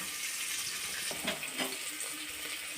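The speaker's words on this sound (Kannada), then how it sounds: "ಶುಂಠಿ ಮತ್ತು ಬೆಳ್ಳುಳ್ಳಿ ಹಾಕಿ ಚೆನ್ನಾಗಿ ಸ್ವಲ್ಪ ಫ್ರೈ ಮಾಡ್ಕೋಬೇಕು ಈರುಳ್ಳಿ ಕಂದು ಬಣ್ಣ ಬರೋವರೆಗೂ ಫ್ರೈ ಮಾಡ್ಕೊಬೇಕು" Ginger, garlic and onion frying for mutton sambar hiss in a steady, bright sizzle, with a few faint stirring knocks partway through. No voices are heard.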